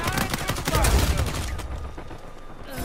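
Rapid bursts of gunfire from a weapon in the video game Uncharted 4 multiplayer, dense and loud for the first second and a half, then thinner shots trailing off under background game noise.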